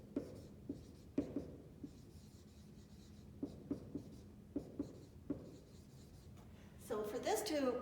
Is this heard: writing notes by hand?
yes